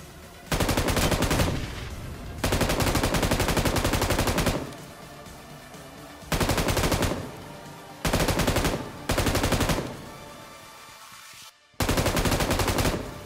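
Automatic and single-shot gunfire from PUBG Mobile, loud bursts of several seconds each broken by short pauses, with sustained rapid-fire stretches and game ambience between them.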